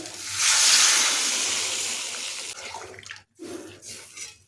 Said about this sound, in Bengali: আলুটা খুব ভালোভাবে কষিয়ে নিলাম এখন এর মধ্যে দিচ্ছি জল